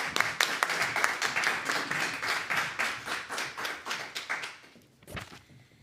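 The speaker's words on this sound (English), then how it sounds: "One more round of applause." An audience at an evening leadership awards program in Hartford claps steadily for about five seconds, a dense, even round of applause that fades out near the end.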